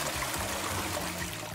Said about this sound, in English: I've got a flushing toilet and everything.